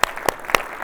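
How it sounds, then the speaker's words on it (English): Sharp, loud hand claps ring out during a keynote address at a national golf coaches' gathering. Three distinct, evenly spaced claps sound close by rather than a full ongoing round of applause. "Hey, let's give her a round of applause, right?"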